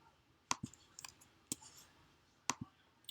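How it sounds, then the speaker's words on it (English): Typing on a computer keyboard: a few sharp, scattered clicks at irregular intervals, close and fairly quiet, with no talk. "I started typing right here"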